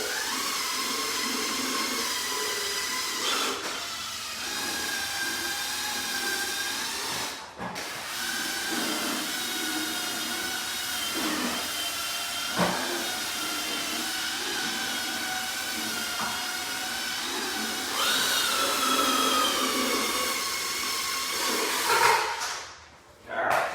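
A steam cleaner hisses steadily on the fabric of 30-year-old Chevrolet Suburban seats. The jets run in long continuous bursts, broken by a few short pauses, and sound close and fairly loud.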